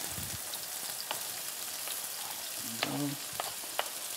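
Mushrooms being added to onions in a sautéing pan give a steady broadband sizzle with a few sharp clinks and stirring scrapes, fairly close and moderately loud, with no talking.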